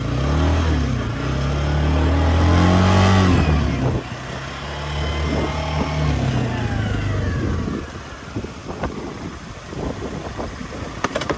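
A vehicle engine rumbles and revs steadily up close, then quiets after a shift into reverse as the vehicle pulls away, followed by a few sharp clicks and knocks near the end.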